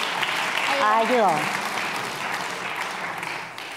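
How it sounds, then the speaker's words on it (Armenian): An audience applauds with continuous dense clapping throughout, fairly loud, while a voice speaks briefly over it near the start. "Ծափ արենք"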